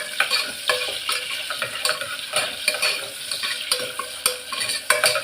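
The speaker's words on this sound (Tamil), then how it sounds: "உப்பு, வெங்காயம் நல்லா வதங்கட்டும்." Sliced onions with salt sauté in a pan for chicken gravy, with a steady close sizzle broken by frequent rhythmic scrapes and clacks of a spoon stirring them.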